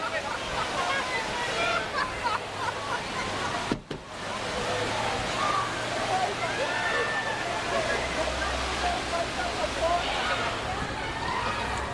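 River water rushing steadily at Lava Hot Springs as people float past on tubes, a broad continuous wash with crowd voices and a cheer mixed in.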